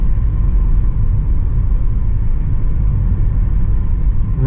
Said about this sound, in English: Runs rough at an idle.